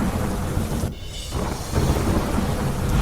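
Heavy monsoon rain pours steadily in Modasa, Gujarat, while thunder rumbles low and loud; the downpour briefly thins for a moment before surging back.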